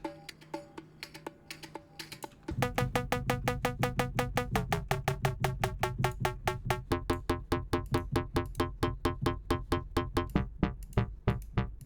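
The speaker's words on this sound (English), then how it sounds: "And also it has some percussion, it sounds like this." Percussion part of a home-made weekly drum track: a few quiet hits, then a rapid, even stream of sharp clicky strikes running steadily to the end at moderate level, with no voices.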